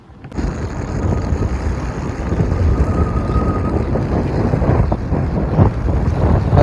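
Strong wind buffets the microphone on top of Khodiyar Dam near Dhari, a steady loud rumbling gust that runs continuously with no speech.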